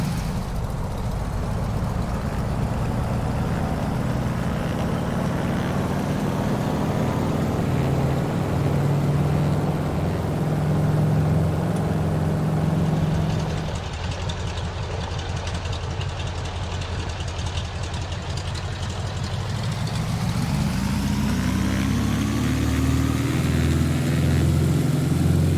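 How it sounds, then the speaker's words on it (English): A Carenado WACO YMF-5 biplane's radial engine in Microsoft Flight Simulator runs steadily, with an idling rumble in the first half and then a rising roar of power toward takeoff thrust, loud and continuous with no talking. "The startup sounds, the engine idle sounds, the takeoff thrust sounds"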